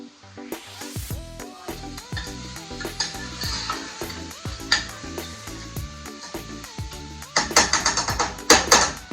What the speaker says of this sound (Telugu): సో ఒక 1 ఫుల్ టేబుల్ స్పూన్ అల్లం వెల్లుల్లి పేస్ట్ వేస్తాను.